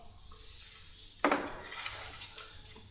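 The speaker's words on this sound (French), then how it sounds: "Avec la petite cuillère, tu rassembles les pommes." A small spoon scrapes and clinks against a pan while gathering cooked apples, one sharp burst of scraping followed by lighter taps over a quiet background.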